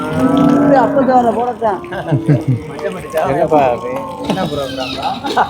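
Cattle moo loudly and repeatedly, several animals close by with overlapping calls amid a busy crowd at the Manapparai cattle market.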